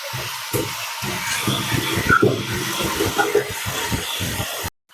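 Peeled ginger and cumin ground by hand on a flat grinding stone (pata), a close, fairly loud rhythmic rasping of repeated back-and-forth strokes that stops abruptly at the end.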